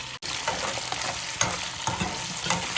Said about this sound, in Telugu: దీంట్లో పచ్చిరొట్టు వేసుకుంటున్నాను